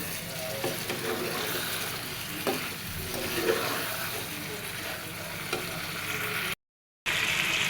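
Meat and potato curry fries in a pan with a steady close sizzle while a spoon stirs and scrapes it in uneven strokes, broken by a brief moment of dead silence near the end.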